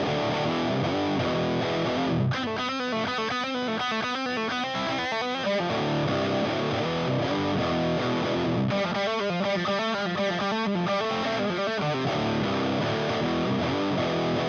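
Electric guitar runs through a Son of Pharaoh fuzz pedal, producing a thick, saturated, loud wall of fuzzy chords with rhythmic strummed passages that carry steadily for the whole stretch, with no voice present.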